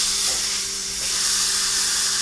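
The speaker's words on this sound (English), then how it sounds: "you can see that steam coming off of the top of that pressure cooker" Steam hisses steadily from the valve of a pressure cooker releasing pressure after cooking baby back ribs, a loud, continuous, close rush with a faint hum beneath.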